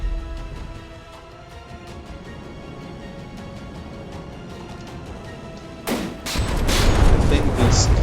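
Naval cannon fire and artillery in a warship battle game during a tournament duel between the Requiem and the Konig, with scattered gun reports under a commentator's voice, then a heavier salvo and rumbling roar near the end.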